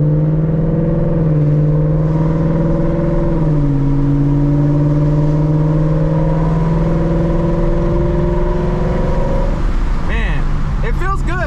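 A 2021 Ford Mustang GT with a 10-speed automatic, on ethanol fuel and a Lund Racing tune, drones from inside the cabin as it accelerates. The engine pitch climbs steadily, then drops at several gear shifts, loud and continuous.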